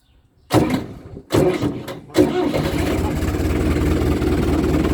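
A 1986–1995 Fiat 7056 tractor diesel cranks in a few short bursts, fires, then settles into a steady, loud, close idle with a low rumbling chug.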